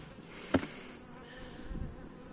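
A dense, steady hum of many honeybees buzzing close by at a hive after smoking, with a sharp tap near the start and a faint rustle later.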